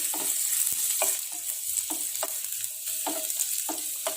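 Minced garlic sizzling in a pan for pizza sauce, a constant bright frying hiss punctuated by regular scraping strokes of a spoon stirring it.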